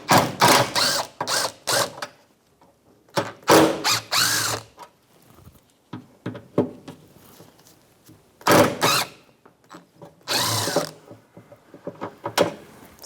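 Ratcheting tool work on the three T30 Torx mounting bolts of a 2011-2021 Jeep Grand Cherokee liftgate, heard as repeated short bursts of close, loud mechanical whirring and clicking separated by pauses.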